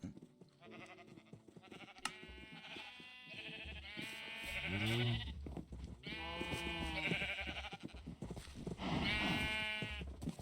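Sheep in Minecraft bleat in a string of wavering, nasal calls, several overlapping at close range, with short gaps between the louder bleats.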